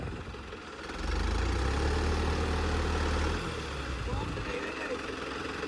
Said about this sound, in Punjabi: ਆਵਾਜ਼ ਦੇਖੋ ਟਰੈਕਟਰ ਦੀ